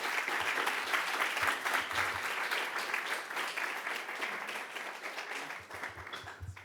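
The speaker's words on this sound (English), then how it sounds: "And I want to welcome, with a big applause, Alex Weibel." Sustained audience applause fills a lecture hall at an AI pitch day as a speaker is welcomed, dense steady clapping throughout that thins slightly near the end.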